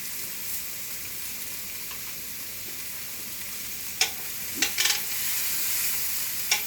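Meat sizzling on a smokehouse griddle, a steady soft hiss of frying with a few sharp pops and crackles spattering near the end, fairly quiet and close.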